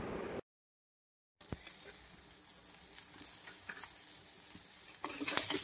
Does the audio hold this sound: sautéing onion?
yes